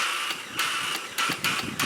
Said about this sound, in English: that's the sound of just the starter spinning because the starter clutch is not engaging